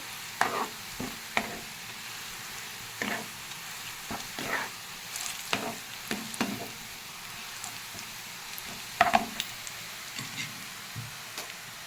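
Onions turning golden in a pan for a chicken chap: a soft, steady sizzle broken by intermittent scraping and clattering strokes from a spoon stirring through them, with no voices.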